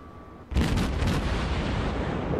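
A Japanese Atago cruiser fires high-explosive shells in a naval battle game, a sudden loud boom at about half a second followed by a sustained rumbling, crackling roll of gunfire and explosions.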